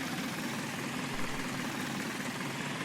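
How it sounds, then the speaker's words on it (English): A powerful farm tractor engine in Farming Simulator 19, used for mowing, drones steadily with a continuous low rumble and a broad even roar, holding constant without any revving or pauses. "this is a mighty powerful tractor for the mowing"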